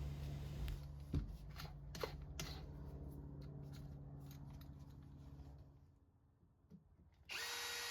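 A power drill bores a pilot hole into wood for a small brass hinge with fine threads, a steady close whirring motor with a few sharp knocks, easing off near the end before a brief burst of noise.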